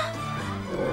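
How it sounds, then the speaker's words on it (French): A dog barks in a French-dubbed animated Cinderella episode, a short burst of yapping heard amid a dense, tonal soundtrack with roaring in the mix. "Derrière ces rugissements, j'ai reconnu les aboiements de Bellus."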